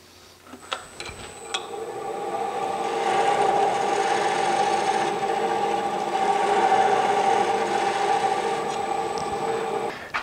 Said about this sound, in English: I can use some sandpaper and just clean up the very bottom of that.